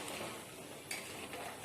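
Sugar is stirred into boiling water in a pot for banana leaf kesari, a steady bubbling hiss with a few scraping clinks of the spoon against the vessel.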